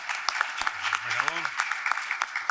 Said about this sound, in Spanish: Un aplauso, por favor, para Francisco